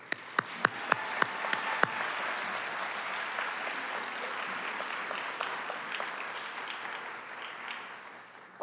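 An audience in a school theater applauds students after their Gettysburg Address performance: a few sharp, distinct claps open into a steady, dense round of clapping that holds evenly, then stops abruptly.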